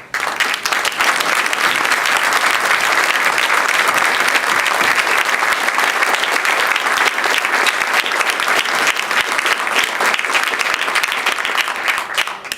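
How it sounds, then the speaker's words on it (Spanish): Sustained applause from a large audience at a formal anniversary ceremony in Quintana Roo, steady and loud throughout with dense clapping and no pauses. "para que les brindemos un caluroso aplauso"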